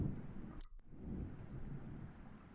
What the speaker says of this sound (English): Outside, another streak of lightning flashes and a clap of thunder ripples across the sky.